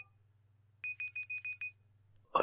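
A mobile phone rings once with a short trilling electronic ringtone, clear and close over a quiet low hum, followed by a brief clatter.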